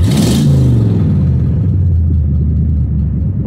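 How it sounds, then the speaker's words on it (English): A 1988 Ford LTD Crown Victoria engine with cut-off exhaust pipes rumbles loudly and steadily up close, a deep low growl that briefly swells near the start before settling into a sustained idle. "And then with the cut off exhaust pipes, nothing but loud."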